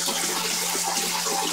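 Water pouring steadily into an aquaponics fish tank, a continuous close hissing splash with no break and no voices.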